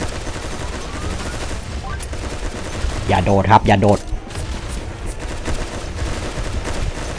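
Rapid automatic bursts from a Waterman's Rifle, a water-gun machine gun in the Pixel Gun 3D mobile game, crackle loudly in the middle of the clip while someone talks in Thai around them.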